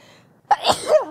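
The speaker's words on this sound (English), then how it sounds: "Okay, big sneezes." A single big human sneeze bursts out after a brief quiet intake, loud and close, with no talking around it.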